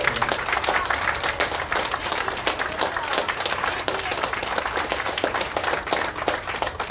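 An audience claps for police officers at a George Floyd solidarity gathering, a dense, sustained round of applause from a crowd that holds steady for several seconds.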